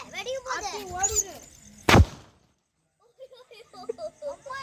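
A firecracker goes off with one sharp, loud bang after children chatter and call out nearby, followed by a moment of silence and then more voices.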